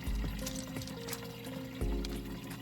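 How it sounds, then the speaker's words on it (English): A watering can filled with water, a close steady pour with gurgling and a slight change in tone as it fills, short and without talk. "Then I'll go and fill up the watering can, ready to water the pot."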